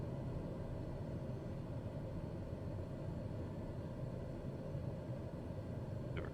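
A light aircraft taxis across a runway, its engine a steady, even broadband drone with wind-like noise throughout, continuous and fairly close, with no talking.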